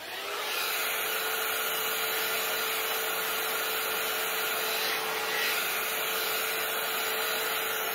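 A rotating hot air brush blow-drying hair makes a continuous loud airy whoosh with a steady motor whine that holds evenly for about eight seconds, with a faint rubbing texture and no speech.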